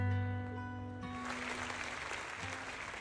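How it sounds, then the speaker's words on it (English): Crowd applause in a video game cutscene rises out of a sustained musical tone and carries on as a steady, moderately loud patter of clapping. "With a wave of prolonged applause"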